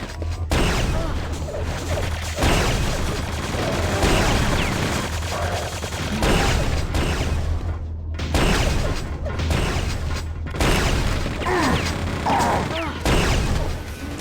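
A railgun fires in the game Quake 2, delivering repeated sharp electrical cracks in loud, dense bursts separated by brief gaps, with no voices.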